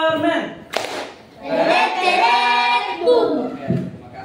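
A classroom group claps a rhythmic cheer, with sharp hand claps and children's voices chanting together in a lively burst at close range.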